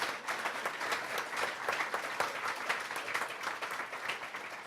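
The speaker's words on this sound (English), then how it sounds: "Round of applause, please." An audience at a celebration event gives a sustained round of applause, with dense clapping from many hands filling the whole stretch at an even, steady level.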